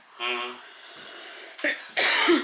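A person gives a few rough coughs and throat-clearing bursts, close by, separated by short pauses, with a voiced sound at the start.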